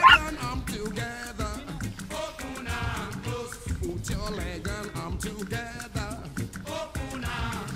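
A rescue puppy on a long road trip carrying dozens of rescue dogs whimpers and yips in repeated high cries, mixed into a dense, continuous wash of surrounding noise.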